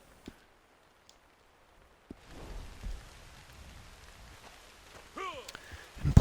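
Rain falling steadily in the video game Red Dead Online, a soft constant patter that rises after a quiet start, with brief clicks and tonal game sounds near the end.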